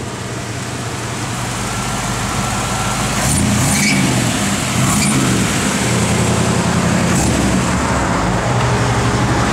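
A 1957 Chevy convertible driving along, the engine a steady loud rumble with road noise that swells as it accelerates partway through, with no talking.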